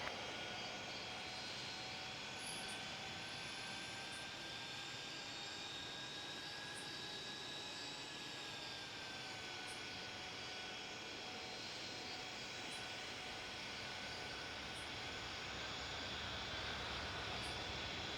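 Jet aircraft departing Zurich airport in Tower! Simulator 3, a faint, steady whining engine roar with sustained tones that shift slightly in pitch as it climbs away, no voices.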